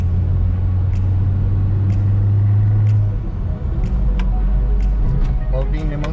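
A 2003 Toyota Corolla Altis 1.8 G automatic pulls away with a steady low engine rumble and hum. Its tone shifts partway through as it drives on, with faint light ticks above the drone.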